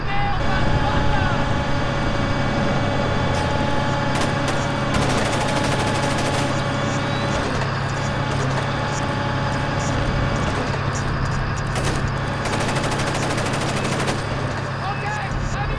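Bursts of gunfire in Splinter Cell: Chaos Theory, with rapid automatic volleys over a steady background hum, recurring in clusters throughout and accompanied by voices talking.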